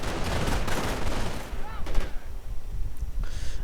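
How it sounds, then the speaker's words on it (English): An MG42 machine gun fires in a WWII strategy video game, loud rapid bursts of gunfire rattling over a dense battle din, with a voice talking over the shooting. "the MG42 rakes on round after round at those tiny windows"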